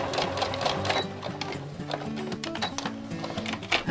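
A sewing machine runs a few back tack reversing stitches on an apron, giving a close, steady mechanical whir and rapid needle clatter with brief shifts in pace.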